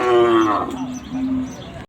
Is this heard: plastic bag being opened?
no